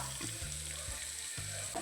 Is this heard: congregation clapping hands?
no